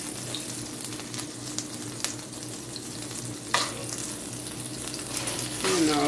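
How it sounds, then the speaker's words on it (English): A burger fries in onion juices in a pan, a steady close sizzle with scattered crackles and pops and a brief scrape near the end, without talking. "my burger is literally frying in onion juices"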